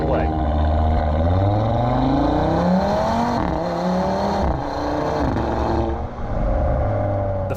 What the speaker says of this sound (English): plant your foot on the brake pedal and the gas pedal, and launch away